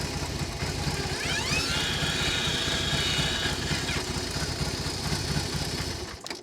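A BMW R18 heavy cruiser motorcycle engine idles steadily and loudly up close, a continuous throbbing rumble that holds even before tapering off at the end.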